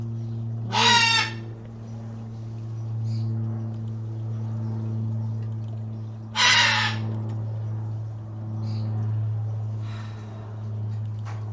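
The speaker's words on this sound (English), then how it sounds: "Yeah, it's just a squawky bird." A squawky, crow-like bird caws twice in loud bursts several seconds apart, with fainter calls between, over a steady low hum indoors.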